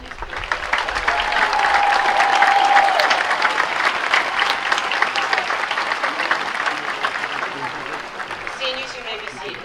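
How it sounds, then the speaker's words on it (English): Sustained audience applause at a school graduation commencement ceremony, swelling to a peak and then holding steady as a dense wash of clapping, with a brief tone and voices briefly audible underneath. "How about another round of applause for these people?"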